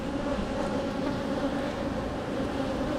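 Honey bees swarm around an open hive, a dense, continuous droning buzz of many insects close by, steady and alone without talk.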